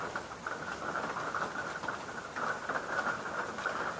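Rain falls outdoors in a steady, soft patter at evening, an even wash of drops with slight swells in intensity and no voices.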